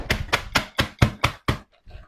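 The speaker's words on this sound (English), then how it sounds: "I'm just chopping up this tomato to add to our chicken mixture." A knife chopping a tomato for a chicken mixture on a cutting board: seven crisp, evenly paced chops close up, then a couple of softer, quieter taps after a brief pause.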